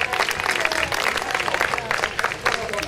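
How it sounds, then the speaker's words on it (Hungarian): Outdoor street-entertainment audience applauding after a performance, a steady dense wash of many hands clapping with crowd murmur, fairly close and continuous throughout. "A tapsokat köszönjük!"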